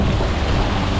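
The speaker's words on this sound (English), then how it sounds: "It's windy, it's rough" Strong wind buffets the microphone aboard a fishing boat on rough sea, a loud continuous roar of gusts and wash with no voices.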